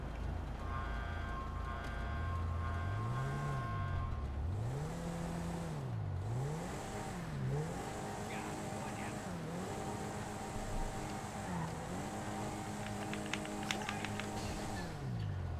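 A BMW i8 sports car engine in GTA 5 revs up and down repeatedly, its pitch swooping in smooth waves, with a synthetic game-like tone and a steady hum underneath.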